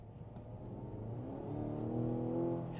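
A 2025 Mazda CX-80 plug-in hybrid SUV accelerates, its engine note climbing smoothly in pitch and growing louder over a few seconds, moderately quiet and unaccompanied by talk.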